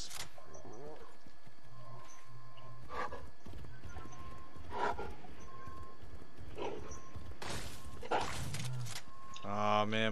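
Pig mount running in the Fortnite video game, rhythmic hoof-like clip-clop steps with snorts, heard close under excited talking from players.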